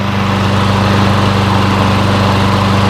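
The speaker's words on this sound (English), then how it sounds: "This is the quietest lawnmower I've seen in a long time." A small Lawn-Boy lawn mower engine idles steadily, a smooth low rumbling putter that stays constant and loud throughout with no voices.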